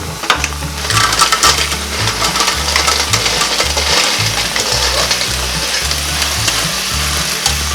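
Loud, continuous sizzling and frying of clams in a hot pot, with scraping and clinking of shells as they are stirred, steady throughout, no voices.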